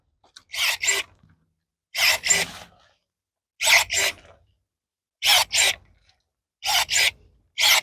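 Makita cordless pruning shears cut thin branches about a centimetre thick in five spaced bursts, each a quick double whir of the motor closing and reopening, close and loud with silence between.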